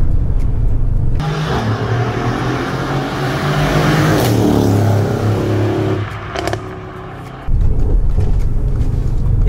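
A Mercedes-AMG GLE 63 S, rated at 580 horsepower, accelerates hard. Its loud, continuous engine roar fills the clip, drops briefly near the end, then surges back in full force.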